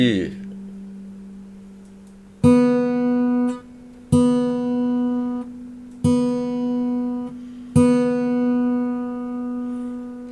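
A lower note fades out, then an open B (second) guitar string is plucked four times at a steady pace, each note sustaining brightly up close.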